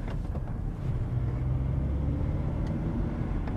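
A diesel car drives over a rough, poor-quality road used for testing suspension faults, giving a steady low engine and road rumble heard from inside.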